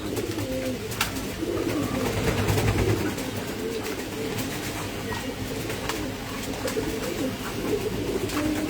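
Pigeons coo steadily in a pigeon farm in Mirpur, Dhaka, as many birds overlap in a continuous, close, moderately loud chorus of low cooing with occasional wing flutters and no talk.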